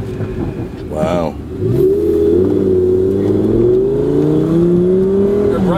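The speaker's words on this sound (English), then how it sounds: "This car has some noise to it." A sports car engine revs loud and close, its pitch rising steadily and holding high, with people talking briefly near the start.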